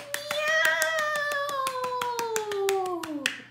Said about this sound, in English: she clapped all night, she clapped all day, she clapped to frighten